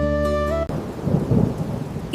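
Heavy rain with thunder in a village during the monsoon, a loud steady roar that begins over a deep rumble, then cuts to dense, churning downpour and low thunder noise without any voices.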